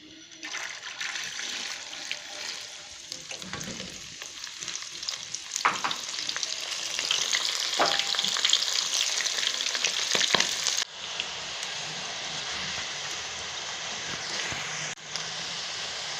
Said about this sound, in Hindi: अब हम दाल फ्राई करेंगे।